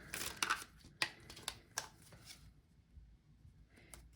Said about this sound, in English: I'm like trying to shuffle on camera so you can see